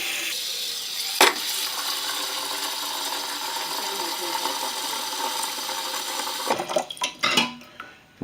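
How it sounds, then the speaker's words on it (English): Steady rush of water from a sink tap filling a pan, continuous and close, with a metallic clank early on and a few knocks and clatters of the pan near the end. "We're going to fill it up with water."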